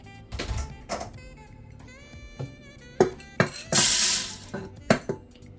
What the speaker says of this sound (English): I'm going to add my beans to a pressure cooker.